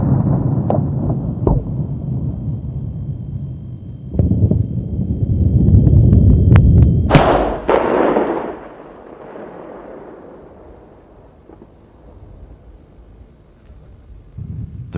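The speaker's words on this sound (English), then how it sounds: "The shell penetrates about 1 meter into the bunker before detonating." Bofors shell striking a bunker and detonating after penetrating: a dense sustained rumble of blast noise, then a sharp loud crack around the middle that rolls off into a long fading low reverberation.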